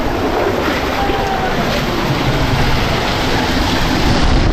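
Steady rushing water from a hidden waterfall in Tirunelveli fills the whole stretch, a continuous broad wash with some wind buffeting the microphone, loud and close.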